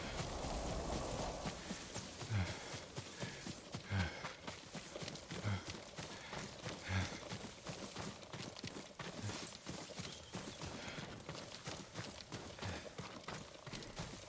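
Horse hooves clip-clop in a steady walking rhythm in Ghost of Tsushima, the video game, each strike fairly close and distinct over a low ambient bed, with an occasional faint snort.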